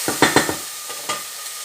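Chicken and onions frying in a pan, with a few quick scraping stirs in a row followed by softer, spaced taps, over a steady faint sizzle.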